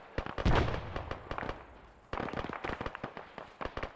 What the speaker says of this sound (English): Hearing shots to the southeast as well.